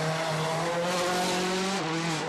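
Citroen C4 rally car on gravel tyres at a WRC rally in Cyprus, a continuous loud high-revving engine whine that holds steady, then dips slightly with a gear change as the car passes.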